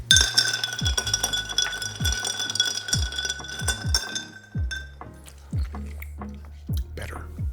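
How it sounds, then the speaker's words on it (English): Ice clinking in a glass as a Negroni cocktail is stirred, with bright glassy chimes early and then a regular run of wet knocks and clinks from the cubes, close and fairly quiet. "we fill this up with ice and stir 20 to 30 seconds"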